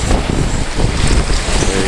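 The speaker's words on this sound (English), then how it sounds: "Well, the wind's kicking up" Wind gusting across the Missouri River near Twin Bridges, Montana, a steady loud roar of buffeting wind noise with a low rumble throughout and no clear speech.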